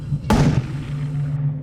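A gelatin pill holding sodium metal bursts in water with one sharp, loud blast that trails off into a rumbling, fizzing wash.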